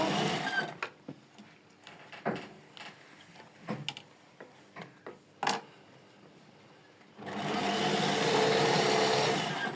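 A sewing machine stitches a seam in lacing work, first a few scattered clicks and short mechanical taps, then a steady close whirring run of stitching near the end.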